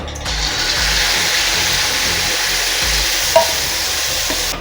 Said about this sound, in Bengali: এরকম করে খুন্তিতে চেপে ভাজলে ভেতরটা কাঁচা থাকবে না।